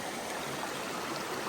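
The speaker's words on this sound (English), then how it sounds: "Nice cool stream." Cool stream flowing beneath a bridge on the Appalachian Trail, a dense steady rush of water close by with no breaks or other sounds.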